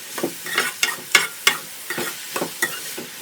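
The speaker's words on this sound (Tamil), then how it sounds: "நூடுல்ஸ் இருக்குது. இப்போ இதை போட்டு மிக்ஸ் பண்ணுவோம்." Egg noodles with vegetables stir-fried in a pan: sharp, rhythmic scrapes and tosses of a utensil, about ten strokes, over a light sizzle, close and clear with no talking.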